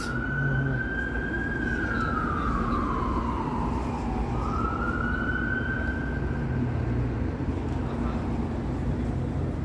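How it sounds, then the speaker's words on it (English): A wailing siren rises and falls in a slow sweep over a constant rumble of Friday-night city traffic in Toronto, sounding at moderate distance. "I hear more sirens."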